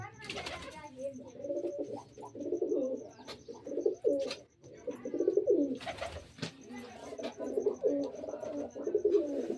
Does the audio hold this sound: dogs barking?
no